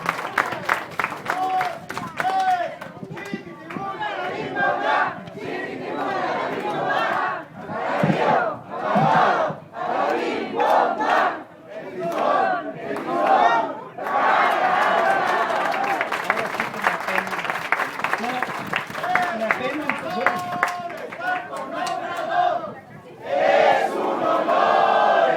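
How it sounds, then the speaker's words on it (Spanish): A crowd at a political assembly in Villa de las Flores, Coacalco applauds and cheers for a guest speaker, loud sustained clapping mixed with shouts and rhythmic chanting that surges in waves across the stretch. "ahora sí un aplauso, por favor, para Rafael Barajas el Fisgón"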